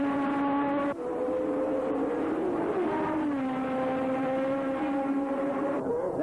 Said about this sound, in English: Braking very heavily here, selecting third gear, then taking a nice fine cutting line